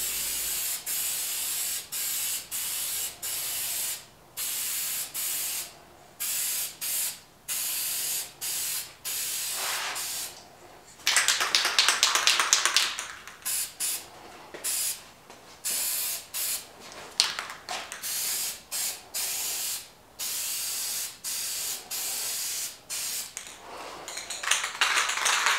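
Spray gun laying kandy paint coats onto a guitar body in repeated hissing bursts separated by short pauses, with one longer continuous spray pass midway; close and steady.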